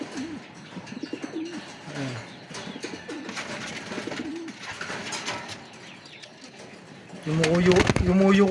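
Soft pigeon coos ripple throughout alongside someone talking, then a louder burst of cooing and fluttery calls comes close up near the end.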